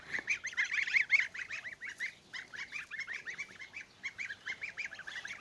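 A flock of geese honking repeatedly in quick, overlapping calls, steady and moderately near, with no voices.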